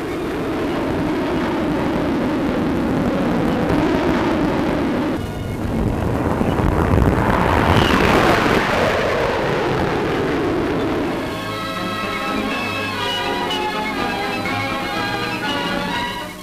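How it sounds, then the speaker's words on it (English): A two-seater Gloster Meteor jet plane flying, a steady, loud broadband roar that swells to a peak as it passes and then settles into a tonal engine whine, with no talking. "a 2-seater Gloster Meteor plane"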